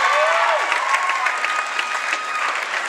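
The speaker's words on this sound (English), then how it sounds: "let's hear it for Trip" An audience at a school event applauds a contestant with a sustained burst of clapping, steady and fairly loud throughout, with a brief whistle at the start.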